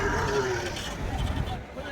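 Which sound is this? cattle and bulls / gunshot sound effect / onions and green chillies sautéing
cattle and bulls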